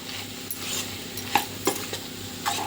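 Spoon stirring cucumber and tomato curry in a pan, a soft scraping with light sizzle underneath and a few sharp clinks of the utensil against the metal, close and steady.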